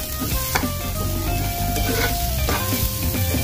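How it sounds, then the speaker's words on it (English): Rice is sautéed with spices in a pan for yellow rice, a close, steady sizzle with repeated scraping stirs of the spoon through the grains and no voices. "So, mga 1 minute lang natin ito igigisa."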